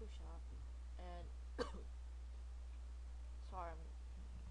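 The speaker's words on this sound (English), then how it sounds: "Sorry, I'm coughing" A person with a sickness gives a single short cough, a brief sharp burst set between quiet, throaty voiced sounds in an otherwise still room.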